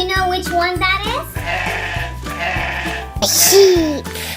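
Sheep bleating over a bouncy children's music track, several wavering bleats with a final loud, drawn-out bleat near the end.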